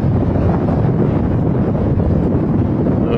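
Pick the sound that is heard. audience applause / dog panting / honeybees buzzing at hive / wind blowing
wind blowing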